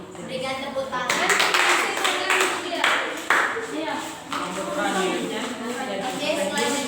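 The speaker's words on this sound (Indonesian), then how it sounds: "Berikan tepuk tangan." After a group presentation in a class, students break into scattered applause that swells for a few seconds and then fades as people start talking.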